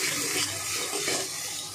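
Water poured into a pan of frying spice mixture with turmeric powder for a prawn and taro curry, giving a steady hissing, bubbling sizzle throughout with no voices.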